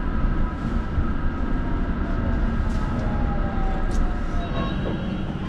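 A London Underground Jubilee line tube train running westbound: a loud, continuous rumble of wheels and motors with faint whines and squeals riding on top, heard from inside the carriage.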